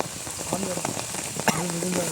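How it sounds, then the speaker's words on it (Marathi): Heavy monsoon rain pours steadily, a dense hiss drumming on a surface, with faint voices briefly audible beneath it. "वरती बघ जोरात पाऊस लागतो"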